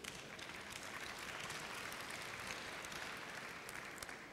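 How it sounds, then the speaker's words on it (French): Applause from a conference audience, a steady, dense wash of clapping that stays faint and even for a few seconds with no speech over it. "et en plus vous applaudissez"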